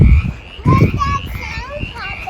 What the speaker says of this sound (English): It's frogs.